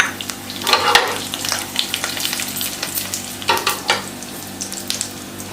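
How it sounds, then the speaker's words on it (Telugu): Tempering seeds and dried red chilies fry in hot oil with a continuous close sizzle, broken by sharper crackling bursts and a spoon scraping as they are stirred. "ఇది పోపు పెట్టనా"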